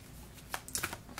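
Oracle cards being shuffled, a brief quick burst of riffling papery flicks, close and fairly quiet.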